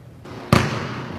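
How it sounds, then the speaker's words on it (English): A basketball bounces once on a hard court after a shot fake, a single loud, close thump in a quiet gym with a faint ring as it fades. "rip the ball into your first dribble"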